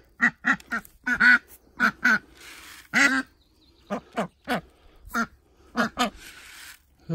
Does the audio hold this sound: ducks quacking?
yes